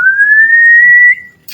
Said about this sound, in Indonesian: Ada yang bersiul bos.